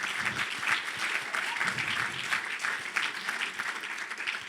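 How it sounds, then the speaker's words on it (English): Dense, steady applause from a church congregation, many hands clapping continuously at an even level throughout with no voices standing out. "let's give him a round of applause."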